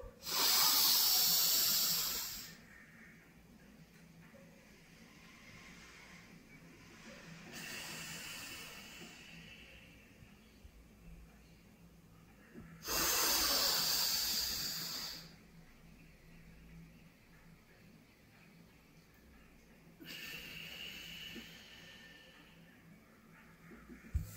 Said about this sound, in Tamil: இப்போ நான் ஒரு ஒரு நாஸ்ட்ரலில் தான் இங்கே ஓப்பன் இருக்குது